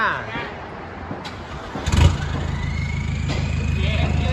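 A heavy 1.9 truck diesel engine with turbo cranks and catches, then settles into a steady, loud rumbling idle with low exhaust throb, close by, with voices briefly audible early on.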